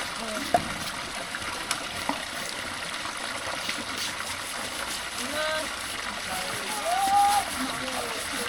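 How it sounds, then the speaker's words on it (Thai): A Lao hill-tribe woman scoops water from a stream, making soft trickling and intermittent splashes over an outdoor background, with a brief chirp partway through. "มาตักน้ำบ่ล่ะ"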